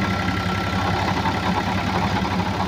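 A Powertrac Euro 50 tractor, a 50 hp machine, idles nearby with a steady, rhythmic diesel chug and a low, even throb that does not change.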